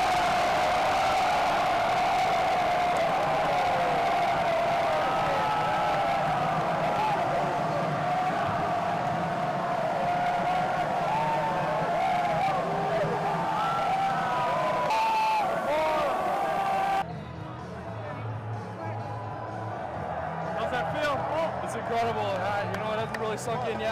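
A large crowd roars steadily at a Bison sports event after the game, a dense, loud wash of cheering and shouting that continues throughout and drops slightly near the end.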